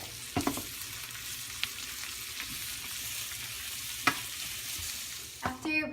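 Carrots and onions sautéing in a pan, a steady soft sizzle with occasional spoon or spatula scrapes and clanks as the vegetables are stirred, fairly quiet and close, ending with a louder clatter.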